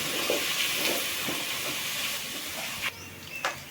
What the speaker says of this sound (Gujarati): આ બધી વસ્તુને છે એ બે મિનિટ સુધી સાતડવા દેવાની છે